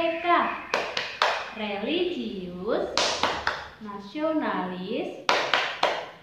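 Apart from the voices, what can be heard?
rhythmic group hand clapping chant by children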